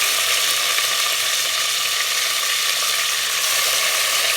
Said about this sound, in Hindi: अब हम डाल लेते हैं चिकन को फ्राई करेंगे।